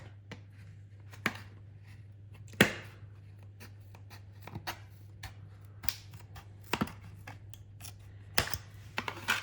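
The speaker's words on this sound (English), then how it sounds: "cut from the other side, just to clear some of the plastic out" Plastic inner fender for a Traxxas Maxx Slash being cut, a scattering of faint, sharp snips and clicks at irregular intervals over a steady low hum.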